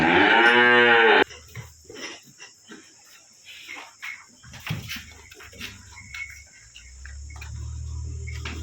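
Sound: cows mooing in village cattle shed

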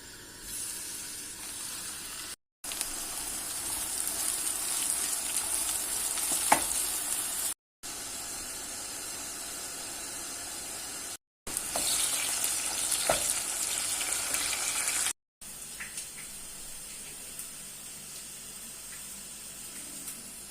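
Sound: eggplant frying in hot oil

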